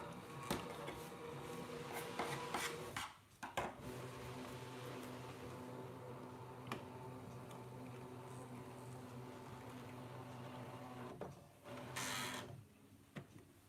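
Brother ScanNCut cutting machine scanning a panel, a steady mechanical whirr and hum running almost throughout, broken by a few brief clicks and short pauses.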